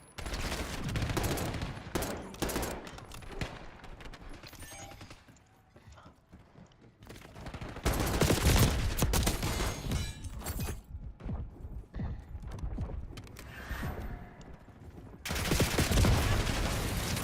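Rapid bursts of automatic gunfire in Call of Duty Black Ops 6 multiplayer, loud and dense, with heavy volleys early, a quieter lull in the middle, then renewed intense firing toward the end.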